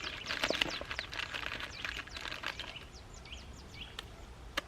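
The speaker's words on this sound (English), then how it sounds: "Got birds hanging around us now." Birds chirp outdoors in the woods at the Devil's Punch Bowl, where the old A3 road has been reclaimed by nature, with scattered quick high calls over faint background noise and a single louder chirp near the end.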